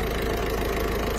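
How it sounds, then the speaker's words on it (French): A Citroën C4 phase 2 with a new-generation engine idles while warming up, giving a steady, continuous low mechanical hum with a faint rhythmic pulse, close and unbroken. "Donc là on est en train de faire chauffer le moteur"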